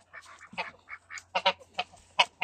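A duck honks and quacks in quick, loud, close bursts during a fast attack on a dog, forming a rapid series of about a dozen harsh calls with no talking.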